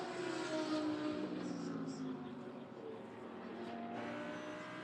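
GT race car in the ADAC GT Masters 2017 at Oschersleben, its engine note sweeping past on track and fading, with a commentator talking over it.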